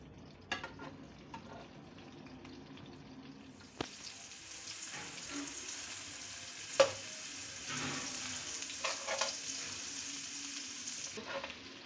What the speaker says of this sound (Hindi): बहुत लो फ्लेम पे हम इसको फ्राई करेंगे।